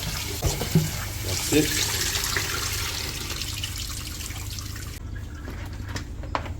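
Oxtail meat being rinsed under a running kitchen tap, a steady splashing stream of water into a sink that continues throughout, with brief handling clatter and a short spoken remark over it.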